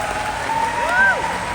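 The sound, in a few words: audience applause for last two musical chairs players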